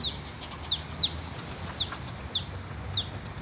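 A hen clucking to her chicks in a park, a series of short, regularly spaced clucks over a faint background murmur, fairly near and without talking.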